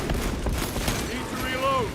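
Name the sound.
bolter gunfire in Warhammer 40k Space Marine 2 video game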